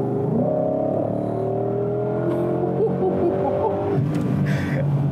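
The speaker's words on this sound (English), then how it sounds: "What you hear instead is just revs for days" A supercharged 2020 Ford Mustang Shelby GT500 engine holds a steady, loud drone, its pitch easing slightly as the revs shift, with no talk over it.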